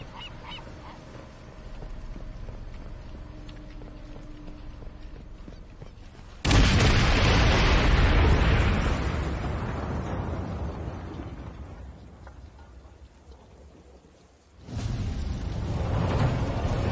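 A gun battery blows apart in the video game Sniper Elite 5, a sudden loud blast at mid-clip that rumbles and fades over several seconds, followed by a second heavy burst near the end over low game ambience.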